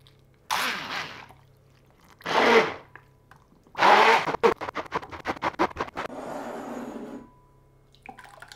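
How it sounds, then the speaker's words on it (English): A hand blender purees tomatoes for pizza sauce in a few bursts of whirring, some longer and some in short rapid pulses, close and moderately loud, with quiet pauses between them. "Then we take a hand blender and start blending the tomatoes."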